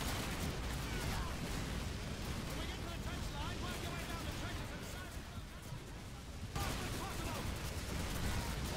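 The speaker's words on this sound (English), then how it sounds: "there's an MG out there, I think" Dense World War II battlefield gunfire from Call of Duty 2, a continuous rattling barrage of shots and explosions with the volume dipping briefly near the end before surging back.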